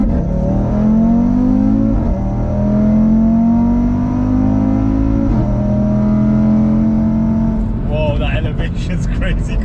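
Audi RS3 engine on the Nurburgring, a loud steady in-car drone rising gradually in pitch as the car accelerates, with a brief gear change, while someone talks over it.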